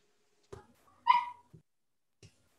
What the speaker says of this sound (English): My dogs are fixing to go crazy.